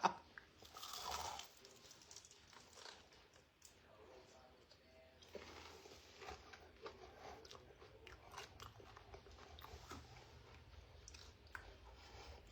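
Crunchy chicken gizzards are bitten and chewed up close, soft crunches and wet chewing repeating quietly, with some low talk in the background.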